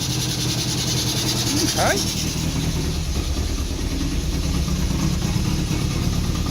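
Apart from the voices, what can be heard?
old car engine idling, missing and backfiring with choke on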